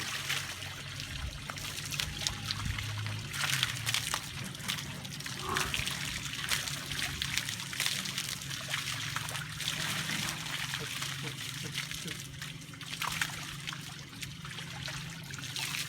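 Water pours and splashes steadily at close range for the whole stretch, a continuous trickling rush with a voice talking over it.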